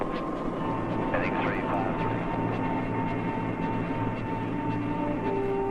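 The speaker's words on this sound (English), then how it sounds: "The Air Force brings our patients in over the mountains in their C-141s." An Air Force C-141 transport aircraft on approach over mountains produces a steady, heavy engine drone that fills the whole stretch, with a voice faintly audible beneath the roar.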